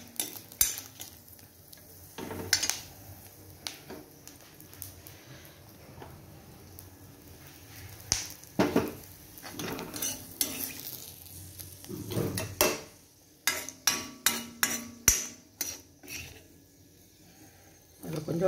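Peanuts and spices dry-roasting in a pan, with repeated bursts of dry rattling and scraping as they are stirred, growing busier toward the end, and brief voice moments between.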